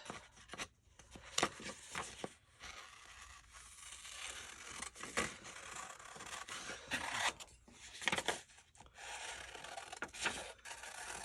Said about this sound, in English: Of course, I will be cutting them with scissors, so there's that.